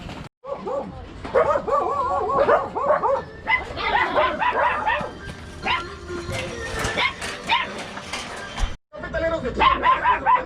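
Several puppies bark, yip and whimper in quick overlapping bursts, close and fairly loud, with a person talking intermittently among them.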